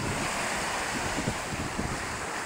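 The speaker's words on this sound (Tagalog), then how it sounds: "kaya malalaki rin ang alon, oh" Large sea waves churned up during a typhoon, a continuous roaring wash of surf mixed with heavy wind buffeting the microphone, loud and close with no voices.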